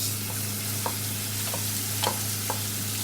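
Cooked rice is added to a pan and stirred, with spoon scrapes and clinks ticking irregularly over a steady close sizzle of frying lemon rice seasoning with turmeric.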